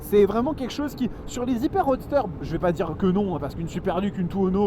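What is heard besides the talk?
No everyday noises stand out.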